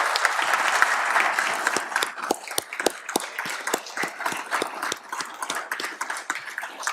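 A city council meeting audience gives Marshall a round of applause, with crisp, uneven clapping from many hands that fills the room and holds steady, faint talk underneath.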